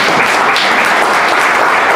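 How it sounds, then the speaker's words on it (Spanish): A church congregation at a confirmation Mass bursts into loud, dense applause, a steady unbroken patter of many hands clapping close by. "un aplauso para ellos"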